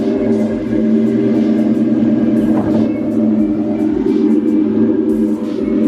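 A 1994-2004 Ford Mustang engine runs nearby with a loud, steady low rumble and a faint rise partway through, continuous and without talking.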